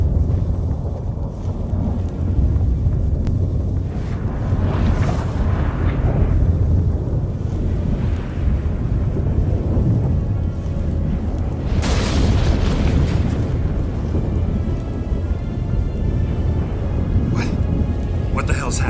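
Thunderstorm in The Witcher 3 video game: heavy rain hisses steadily as deep thunder rumbles roll and crack through, with a sharp clap near the middle, and voices talk over it.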